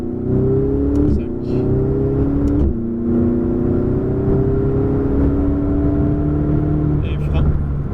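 A Ferrari engine accelerates hard at full throttle on track, its steady rising drone holding loud and close for several seconds with a brief dip partway through, a voice coaching over it.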